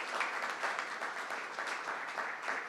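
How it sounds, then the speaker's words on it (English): A crowd at a ceremony for an inaugural Denver Air Connection flight claps steadily for the governor and a congresswoman, dense and even applause heard from a distance. "Let's give them another round of applause."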